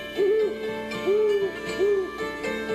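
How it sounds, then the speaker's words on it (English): An owl gives about four soft, evenly spaced hoots from high in the trees at the edge of a meadow, over a quiet sustained musical drone. "The owl's call came closer, from high up in the trees on the edge of the meadow."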